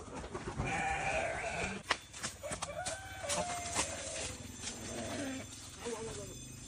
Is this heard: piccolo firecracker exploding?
no